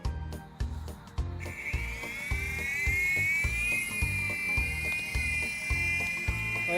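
An AirFun AF610 3-channel RC helicopter flies outdoors, with a high, thin motor whine over a rapid, regular rotor chop, fairly close and steady after a few clicks at the start.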